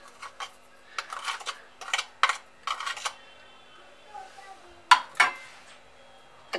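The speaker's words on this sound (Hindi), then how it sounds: "अच्छी तरह से मिक्स कर लेंगे।" A spoon stirs garam masala and salt into a fish marinade in a bowl, giving a run of scraping, clinking strokes in irregular bursts, close up, with a brief faint voice in the background.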